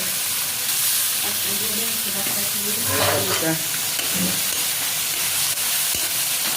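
Carp fish fries in a hot wok with a loud, dense, continuous sizzle and one brief stir partway through, all very close.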